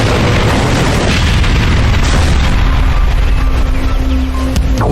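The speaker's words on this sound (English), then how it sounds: "I'm pretty sure it was an explosion." A loud, deep explosion rumbles through the whole stretch, a dense sustained boom that slowly settles without fading out.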